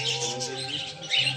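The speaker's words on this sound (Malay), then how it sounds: "Burung koktil." A cockatiel calling at an animal park, with quick bright chirps close by over a steady low hum.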